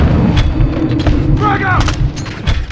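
Booming grenade blasts and bursts of gunfire crowd a realistic military video game battle, loud and close, with shouted voices mixed into the chaos.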